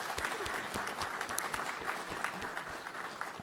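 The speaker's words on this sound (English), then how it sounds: "Let's give him a warm round of applause." A quiz contest finale audience claps in a steady, moderately distant round of applause lasting a few seconds, with no voices over it.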